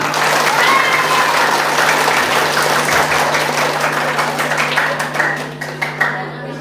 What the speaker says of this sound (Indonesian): Tepuk tangan yang cepat.